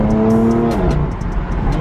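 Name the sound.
sports car engine and exhaust revving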